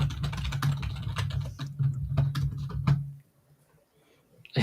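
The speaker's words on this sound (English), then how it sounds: "I can barely hear her keyboard." Rapid, steady clatter of typing on a computer keyboard for about three seconds, fairly close and clear, then breaking off into near silence.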